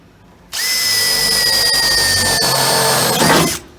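A 25/64 drill bit boring holes during a Ford Transit bed installation whines steadily and loudly for about three seconds, its pitch sliding slightly, then bites harder just before stopping.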